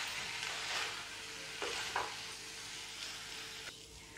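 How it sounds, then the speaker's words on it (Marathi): Cooked rice and vegetables being stirred together in a pan for soya pulao, soft continuous faint sizzling with a few scraping strokes of the spoon, no voices. "आता हे परत एकदा व्यवस्थित मिक्स करून घेऊया।"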